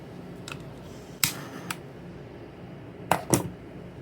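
Sharp snips from a pair of scissors on harness and collar material, a few isolated close cuts spaced out with quiet pauses between them.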